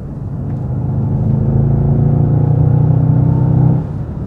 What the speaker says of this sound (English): the sound is just very present for the V8